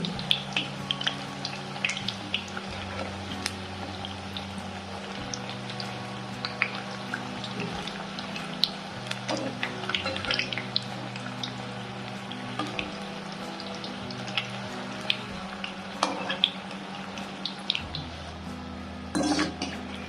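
Puris deep-frying in hot oil with a steady sizzle, spiced mixed-flour puris being turned over, with occasional light clinks of a slotted spoon against the pan, continuous and close throughout.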